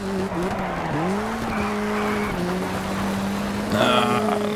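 Rally car in the DiRT 2 video game drives hard with a steady engine drone and shifting pitch, tires squealing and skidding, and a louder burst of scraping and engine noise near the end.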